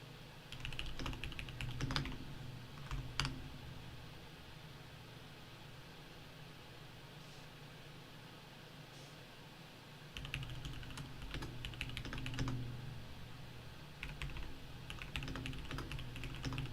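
Faint, rapid bursts of typing on a computer keyboard at a desk, clustered clatter near the start and again after a long quiet stretch, over a steady low background hum, with no talking.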